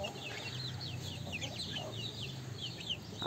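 Chickens, including young pullets and cockerels at a farm in the late afternoon, cluck and peep in a busy overlapping chorus, a continuous chatter of short calls over background noise.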